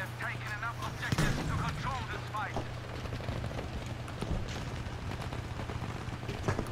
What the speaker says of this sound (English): I'm gonna shoot that flare out